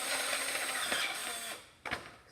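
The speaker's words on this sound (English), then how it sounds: "Hate this drill whenever it runs low on batteries." A cordless drill running low on batteries whirs weakly and unevenly while shaping a quarter into a ring, ending in a couple of sharp mechanical clicks nearby.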